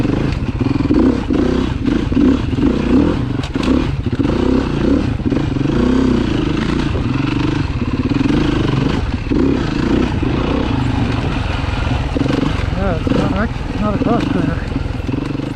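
Four-stroke dirt bike ridden over a rocky track at Foxboro, its engine droning and rising with throttle under continuous clattering of stones, close and loud, with a rider talking over the noise throughout.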